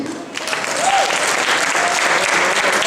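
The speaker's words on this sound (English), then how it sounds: "So big round of applause to you," A Friday-night community crowd at a Shark Tank San Francisco event breaks into loud, sustained applause that swells after a brief quieter start and stays full throughout.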